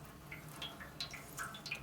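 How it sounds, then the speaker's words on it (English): Fluid drips from the vent of a 1988 Harley-Davidson FXR motorcycle during repair, small faint plinks landing at irregular intervals, quiet and close. "Is it done dripping?"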